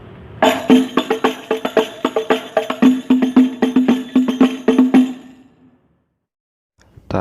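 Hadroh frame drums played together in a combined rhythm, a quick run of loud, close slaps and deeper booming hits in a lively pattern for about five seconds before stopping.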